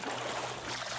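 Water being poured out in the survival game Raft, a steady broadband splashing trickle running continuously through the short stretch at moderate level with no talk.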